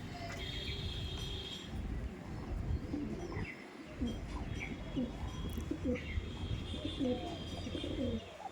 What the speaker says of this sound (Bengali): লাস্ট ওয়ান আর একটা মুন্ডু সাদা পায়রা দেখায়